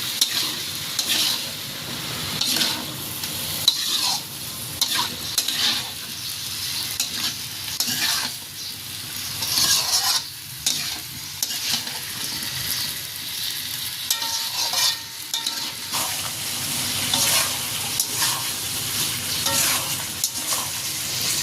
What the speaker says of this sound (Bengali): এখন মশলা আর আলুগুলোকে ভালো করে কষিয়ে নেব